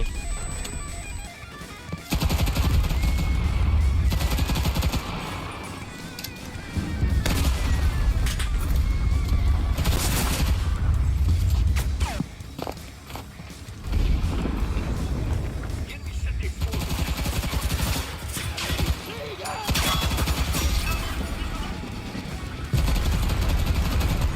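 MP35 submachine gun firing in the WWII shooter Enlisted, with loud sustained bursts of automatic fire repeating over and over, separated by brief gaps, amid booming battlefield noise.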